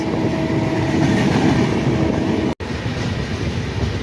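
Loud, continuous rumble and rattle of trains passing close by, with one brief cut partway through.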